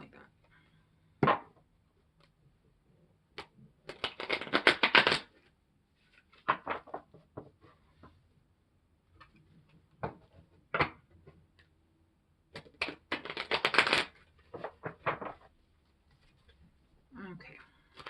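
Bursts of riffling shuffles of a slightly bent tarot deck come in short, crisp flurries separated by quiet pauses and occasional light taps.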